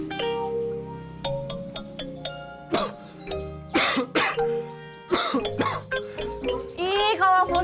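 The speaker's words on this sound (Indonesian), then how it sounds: "kalau flu sama batuk tuh tutupin, nular tahu" A person sick with flu coughs several times in harsh, throaty bursts with some throat clearing, close and loud, scattered between stretches of background music and tones.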